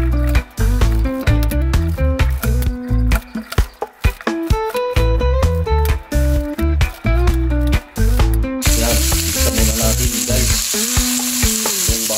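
Chop suey is stir-fried in a pan: loud, busy sizzling and frying with repeated stirring and scraping throughout, with music playing over it and a brighter hiss near the end.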